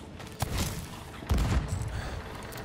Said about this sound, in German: Die schießen wieder, wie frech.